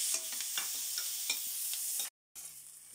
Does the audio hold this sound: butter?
yes